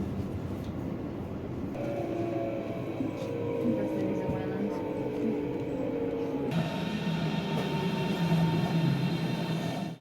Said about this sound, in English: It took us quite a while on the trains, on a tram from the airport.